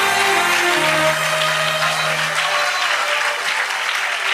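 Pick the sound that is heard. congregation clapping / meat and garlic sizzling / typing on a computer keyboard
congregation clapping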